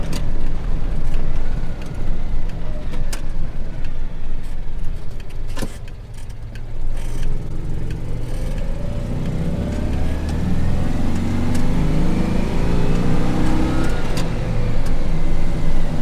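Citroen Dyane classic car driving on a road, its small engine giving a steady, loud drone with low rumble throughout and a rising whine of acceleration in the second half, plus light interior rattles.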